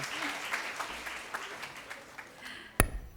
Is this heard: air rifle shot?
no